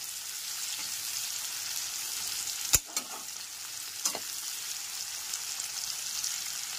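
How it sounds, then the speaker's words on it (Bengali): Chopped onions fry on a medium flame for a soyabean curry, a steady hiss of sizzling oil running throughout, broken by a few sharp utensil clicks and stirring scrapes near the middle. "পেঁয়াজগুলো ভালো করে মিডিয়াম ফ্লেমে ভেজে নেব।"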